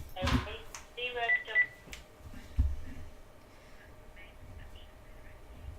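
Telephone keypad tones sound during a business cold call, a few short beeps in quick succession, fairly faint, with some talk around them.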